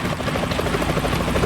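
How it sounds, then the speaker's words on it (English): A helicopter in Metal Gear Solid 2 thrums loudly and close by, its rotor beating in a steady rapid chop throughout. "Is that a chopper I just heard?"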